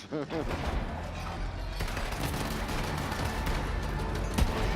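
Low-level guns fire in Borderlands 3 gameplay, a dense stream of shots and booms running continuously beneath talking voices.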